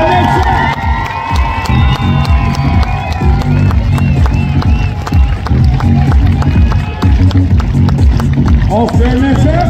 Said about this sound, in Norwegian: Gi en skikkelig applaus til Åsgård Nilsen!